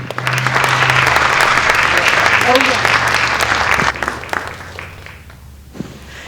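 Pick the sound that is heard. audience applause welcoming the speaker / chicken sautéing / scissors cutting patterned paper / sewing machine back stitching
audience applause welcoming the speaker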